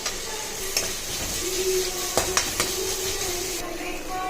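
Onions and spices sauté in a pan for a paneer gravy with a soft, continuous sizzle, broken by a few sharp clicks and scrapes from stirring.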